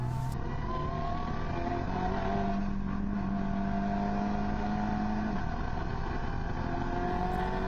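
A race car lapping the Portimao Circuit in Portugal, its engine droning with steady rising and falling pitch as it works through gears, loud and close from onboard with no talk.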